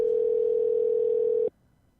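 A steady single-pitched telephone tone on an outgoing call holds for about a second and a half, then cuts off abruptly into near silence.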